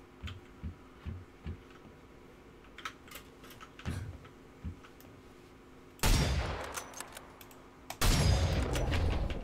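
Gunfire in a video game: a series of soft, sharp pops early on, then two loud, sustained bursts of shots near the end, with no talking.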